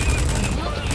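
Rapid gunfire in the stealth action game Metal Gear Solid V: The Phantom Pain, a dense continuous burst that fills the whole moment at steady loudness, with a voice talking faintly underneath.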